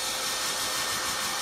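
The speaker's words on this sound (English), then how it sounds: "I'm gonna put my hair dryer on, and I apologize for the noise" A hair dryer blows on wood stain with a loud, steady, close whirring rush and no break or voices.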